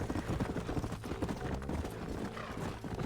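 A horse's hooves clip-clop in a fast galloping rhythm in the Red Dead Redemption video game, steady and close without a break through the short stretch.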